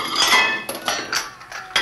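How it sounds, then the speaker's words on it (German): Dishes clatter and clink while being washed at a kitchen sink, giving a quick run of sharp, bright knocks of crockery and cutlery close by with no talking. "Ich werde dieses Geschirr spülen."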